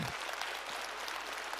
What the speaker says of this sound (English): big round of applause for the team and Sony